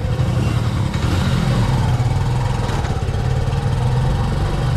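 A motorcycle tricycle engine runs steadily nearby, a loud, continuous low drone with a buzzing rattle and no speech.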